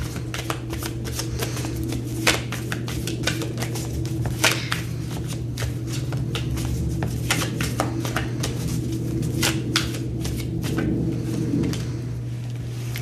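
Tarot cards being shuffled by hand, a continuous run of crisp riffling flicks and soft slaps at close range over a steady low hum, with no talking.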